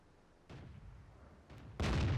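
Artillery fire from the M41 HMC self-propelled gun in the World of Tanks video game, a couple of distant booming blasts with a louder, heavier report at the end over quiet background.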